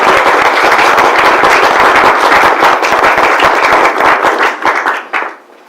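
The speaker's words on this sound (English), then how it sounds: "please join me in giving a huge round of applause" Loud, dense applause from an audience at a public event on Texas public education fills the room and then tapers off quickly in the last second.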